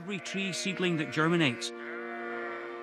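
Sheep in the Scottish countryside bleat loudly and close by, a wavering series of cries lasting about a second and a half before fading into a steady background hum.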